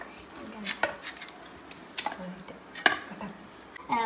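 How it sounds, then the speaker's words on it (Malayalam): A knife chops onion on a board with sparse, close, irregular thuds and clacks. Faint kitchen clatter sits between the cuts. "ഉള്ളി കഷ്ണങ്ങളാക്കണം"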